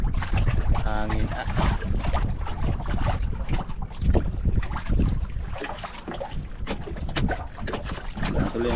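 Strong wind buffets a small fishing boat at sea, a loud steady roar and microphone rumble running throughout with brief voices talking over it.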